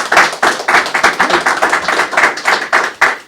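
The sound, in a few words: audience applause for Sid, Citizen of the Year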